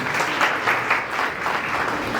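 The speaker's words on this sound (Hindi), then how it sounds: "तालियां तो बजाएं भाई आप कीजिए।" Audience applause at a university award ceremony where gold and bronze medals are handed out, a dense, continuous clapping from a crowd that swells and dips slightly, with no voices over it.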